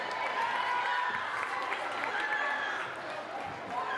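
Gym crowd at a middle school faculty basketball game cheers and claps for a player being introduced, a steady roar of voices and applause with a loud, busy wash throughout.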